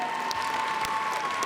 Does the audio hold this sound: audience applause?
yes